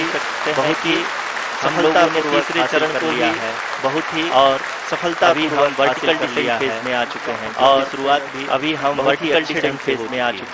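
Staff in mission control applaud during the Chandrayaan-3 Vikram lander's descent, a steady bed of clapping beneath a commentator speaking in Hindi.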